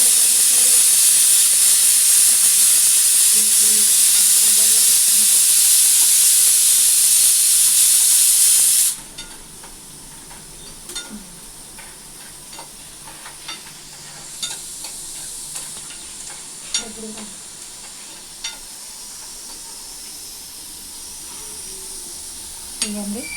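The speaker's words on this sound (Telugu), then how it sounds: "ఉల్లిపాయలు అయితే వేసుకుని కదా ఫ్రైకి ఎండు మిరపకాయ కరివేపాకు అయితే వేసుకుంటున్నాను" Onions, dried red chillies and curry leaves frying in oil for chicken curry give a loud, dense sizzle at first that drops abruptly to a quieter crackle with scattered stirring clinks and pops.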